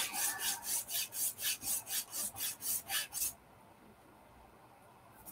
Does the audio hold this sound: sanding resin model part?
yes